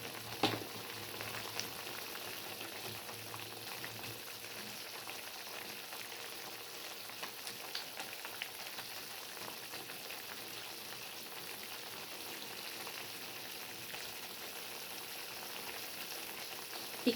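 Beefsteak sauce with beef and seasoning bubbles and sizzles steadily in a pan, a continuous close crackling hiss with no talk over it.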